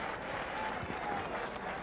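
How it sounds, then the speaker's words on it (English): A brief burst of dense crowd applause at a boxing match, steady and fairly distant, heard on its own. "Have a nice round of applause"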